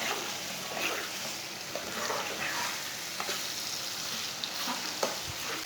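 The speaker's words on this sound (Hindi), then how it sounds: "ऐसे ऐसे चम्मच चलाते हुए भूनना।" Ridge gourd and gram flour curry being stirred and fried in a pan, a steady soft sizzle with occasional scrapes and taps of a spoon, no talking.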